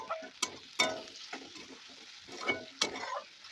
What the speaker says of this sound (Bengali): এবার এর মধ্যে টমেটো কুচিটা দিয়ে দিচ্ছি, দিয়ে ভালোভাবে টমেটো আর পেঁয়াজটা একটু ভাজা ভাজা করে নেব।